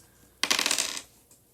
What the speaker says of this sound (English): Oh, let the dice decide.